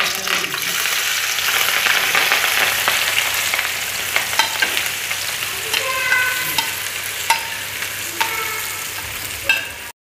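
Onions fry in hot oil with a steady, loud sizzle close by, broken by scattered clinks and scrapes of a stirring utensil against the pan, and no one speaking.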